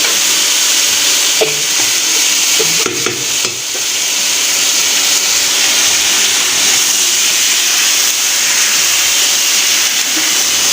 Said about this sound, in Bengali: আমার আলু আর ফুলকপিটা ভালো করে ভেজে নিয়েছি খুব সুন্দর লাল লাল করে।